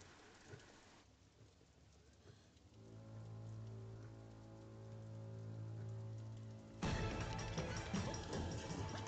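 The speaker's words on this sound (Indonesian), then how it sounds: "Kemana kau bisa pergi dengan hujan yang begitu deras?" Heavy rain pours down steadily, a dense hiss of drops on surfaces that swells louder toward the end, with a low sustained rumble running beneath it through the middle.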